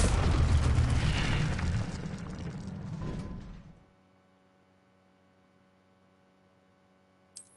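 A fiery spell bursts loudly in a fantasy video game, a roaring whoosh of flame that fades over about four seconds into a quiet low hum, ending with a small click.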